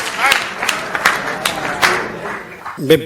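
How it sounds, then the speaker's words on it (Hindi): Audience applause at a Hindi comic poetry gathering (hasya kavi sammelan) welcoming a poet to the stage, a dense wash of clapping with sharper bursts, ending as a voice begins to speak. "जोरदार तालियां बजाकर उन्हें आमंत्रित करिए।"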